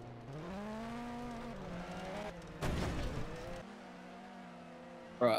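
Race cars in a rally video game rev and drive with steady engine drone, pitch rising through gear changes, a burst of louder roaring mid-clip, then a sharp surge near the end.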